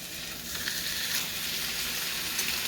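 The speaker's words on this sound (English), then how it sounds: "I'm gonna take the skillet out, which is already hot, and place this in." A ribeye steak laid into an already hot skillet sizzles loudly and continuously, with a dense, steady crackling hiss that holds throughout.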